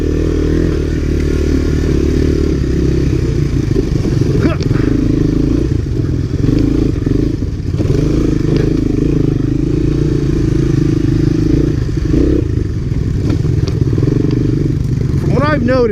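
Several 1985 and 1986 Honda ATC three-wheelers, Big Red and ATC250SX, ride a gnarly winter trail, with a loud continuous engine drone, revving and clattering bumps close by while people talk over it.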